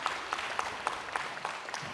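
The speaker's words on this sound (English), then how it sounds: "let's give him another hand clap of praise on today" Applause fills a room at a prison reform conference, honoring a panel and its host; fairly quiet, distant clapping with a few sharper individual claps standing out, continuous over two seconds.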